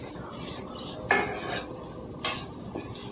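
Chilli-spiced broad beans stirred and fried in a pan: a soft steady sizzle runs underneath while a spoon knocks the pan twice with sharp metallic clinks, followed by a fainter scrape.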